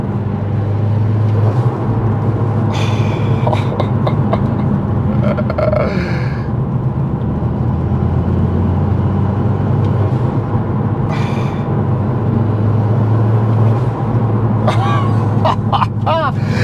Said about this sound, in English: Just so you can hear the dump valve go.